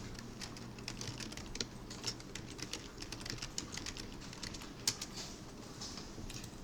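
Quiet, irregular clicking of a computer keyboard as a name is typed, light keystrokes pattering at close range in an otherwise still room.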